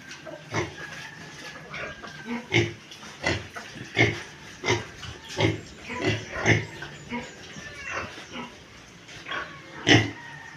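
Pigs grunt in short, repeated bursts, a rough rhythmic series of snorts and huffs close by, continuing steadily throughout, panting in hot weather.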